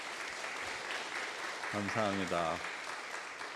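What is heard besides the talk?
congregation applauding to welcome visitors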